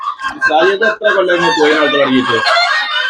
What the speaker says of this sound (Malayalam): മുന്നൂറ് മുന്നൂറ്റമ്പതോളം കോഴികളെ വളർത്തുന്ന ഒരു